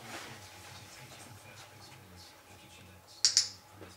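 A dog training clicker gives two sharp, quick clicks close together near the end, standing out briefly over a quiet room with low background hum.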